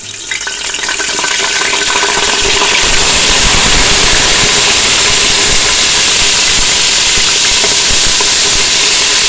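Ginger-garlic paste sizzling and frying in hot oil for a beef korma, a loud steady crackling hiss that swells after the first few seconds and continues without talk.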